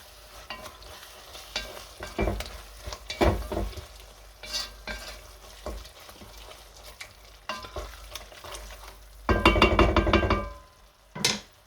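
Stirring a sloppy joe mixture in a pan as fresh parsley and chives go in, with spoon scrapes and knocks against the pan over a soft sizzle, rising to a louder burst of stirring near the end.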